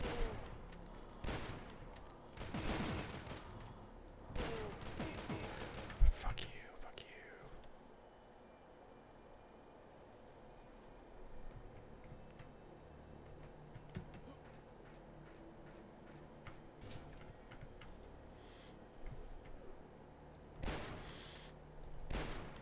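Sniper rifle fire from the video game Ion Maiden cracks in several sharp reports early on, then sparser shots later, mixed with quiet game noise and a person talking softly.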